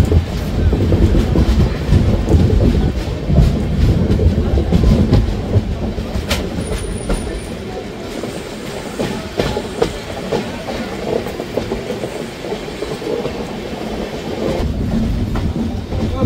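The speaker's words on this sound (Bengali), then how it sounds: "ট্রেন আমাদের ছেড়েও দিয়েছে" Purulia-Howrah Superfast Express train running after leaving Girimaidan station, a loud continuous rumble with rhythmic clickety-clack of wheels on rails and a brief metallic squeal, heard from on board.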